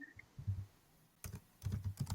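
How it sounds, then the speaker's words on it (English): Someone types on a computer keyboard through an open microphone during an online conference session, faint clusters of quick key clicks in two short bursts separated by a pause. "Someone is typing."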